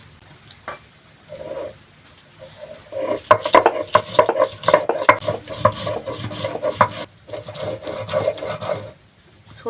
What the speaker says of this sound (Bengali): দুটো কাঁচা লঙ্কা আর ছোট চামচে দু চামচ সর্ষে নিয়ে নিয়েছি সিলেতে বেটে নেবো